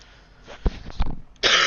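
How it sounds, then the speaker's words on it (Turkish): A person coughs during a Mercedes Axor truck driving game session, with a couple of short, close coughing bursts followed by a louder, sustained rough burst near the end. "Tam derken yine öksürdük."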